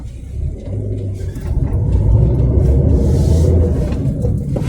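A 1996 Fiat Punto with a 55 hp engine driven gently on an open road, heard from inside as a steady, loud low engine rumble with mild rises in revs and road noise.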